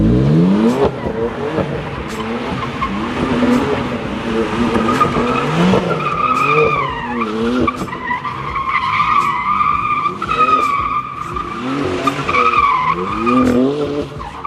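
BMW F80 M3 drifting on a wet road in the rain, engine revving hard with long wavering tire squeals and skids throughout, loud and continuous.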